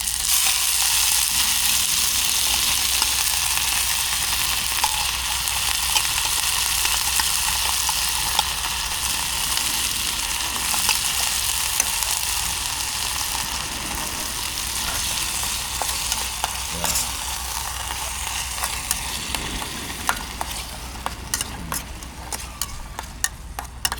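Onions and meat fry in a pan at a motocamping site, giving a continuous loud hiss and crackle close by. Occasional clicks of stirring come through over about 24 seconds, with no talking.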